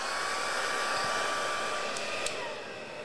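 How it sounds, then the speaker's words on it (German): A heat gun roars steadily at close range over paper collage work, a constant whooshing drone that eases slightly near the end, with a couple of faint clicks. "Und jetzt gehe ich vorsichtig mit dem Heißluftföhn."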